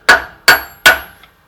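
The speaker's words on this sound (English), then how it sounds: "we're going to restake that, which I cannot get any swing on the hammer where that is now" Three sharp metallic hammer strikes, evenly spaced and loud, restaking the rear pinion nut on a 105 Series Landcruiser, followed by a faint small tap.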